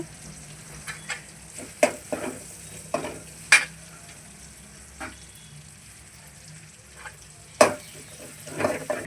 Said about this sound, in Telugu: ఆయిల్ హీట్ అయిన వెంటనే ఇప్పుడు ఎరగడ్డ దంచుకో ఉంటుంది కదా అది వేసుకోండి కొంచెం రోస్ట్ చేసుకొని